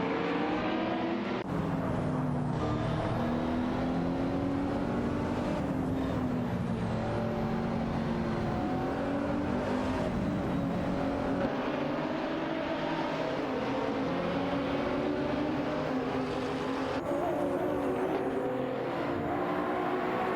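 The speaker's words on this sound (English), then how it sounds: "Exciting battle unfolding between a McLaren MP4 12EC GTA3 and a Renault Sport RS1 GA3." In a racing video game, a McLaren MP4-12C GT3 and a Renault Sport R.S. 01 GT3 duel, their engines producing a continuous loud, dense roar with shifting pitch and other cars passing, steady for about twenty seconds.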